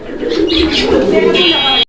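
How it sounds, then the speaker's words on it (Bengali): A pair of blue Shirting pigeons cooing close by in soft repeated coos, with someone talking over them throughout. "আমরা এই মুহূর্তে দেখতে পাচ্ছি আরও একজোড়া শার্টিং কবুতর"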